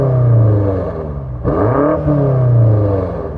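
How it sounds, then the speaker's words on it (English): A stationary BMW M5 Competition revs hard twice, its engine note climbing, dipping and rising again, loud and close with no talk over it. "Now let's hear the BMW rev."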